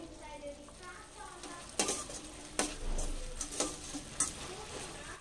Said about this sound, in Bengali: এখন একবার নেড়ে দিচ্ছি